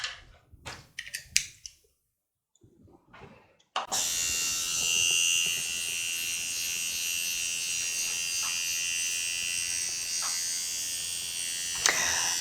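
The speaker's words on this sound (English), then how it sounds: "The tattoo machine has vibration and noise." A Dragonhawk Mast P15 permanent makeup tattoo machine with a Defender cartridge, powered at 4.5 volts, runs with a steady high buzzing whine close up after a few seconds of handling clicks and rustle.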